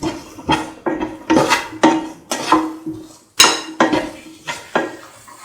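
A spoon scrapes and clinks against a pan while cottage cheese tomato rice is mixed, about ten sharp, evenly spaced strokes, close and fairly loud with no talk.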